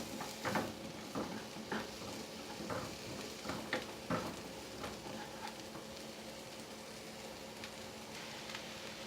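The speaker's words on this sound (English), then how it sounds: "Saute it for a while until the onions turn light brown." Onions saute in a pan for white sauce pasta, giving a soft, steady sizzle with occasional stirring clicks and scrapes, fairly faint and with no talking.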